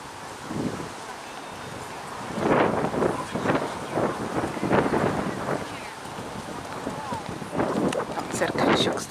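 Gusty outdoor wind buffets the microphone in irregular, rumbling bursts that swell and fade throughout, close and fairly loud.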